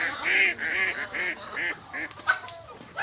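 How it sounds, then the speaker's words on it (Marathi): Ducks kept among poultry call in the rain with a rapid series of loud honking quacks, about eight close calls in three seconds. "आणि बदकं वगैरे बी आहेत आपल्याकडे चार जोडी"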